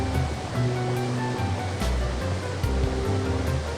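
A river flowing steadily in the game Growlanser, a constant wash of rushing water under simple game music, with no talking.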